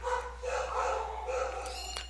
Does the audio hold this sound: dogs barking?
yes